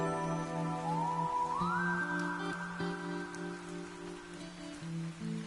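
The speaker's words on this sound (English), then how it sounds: "The rain grew stronger." Steady rain in the video game Fantasian falls quietly and evenly, sitting under sustained musical tones that glide upward and hold.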